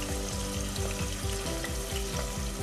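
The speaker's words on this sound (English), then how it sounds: "Let's dump that homemade sofrito in there." Homemade sofrito hits hot olive oil in a pot and sizzles steadily, a close, continuous frying hiss with a faint rhythmic stirring pulse throughout, no voices.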